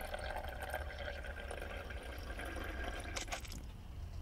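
Water pours into the tank of a toy fire engine, a faint continuous trickling and gurgling with a brief splashy surge near the end, quiet and close.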